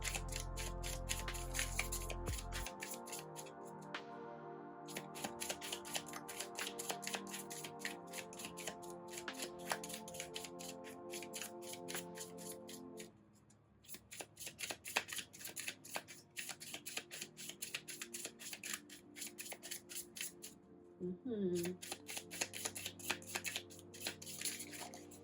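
Tarot cards being shuffled by hand in repeated rapid riffling bursts, crisp and close, with brief pauses between rounds and no talking.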